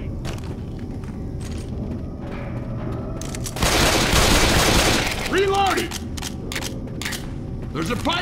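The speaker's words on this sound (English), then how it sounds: "Grenade!" A grenade explodes in Left 4 Dead 2, a loud broadband blast lasting about a second and a half amid ongoing game noise, gunfire and shouted voices before and after.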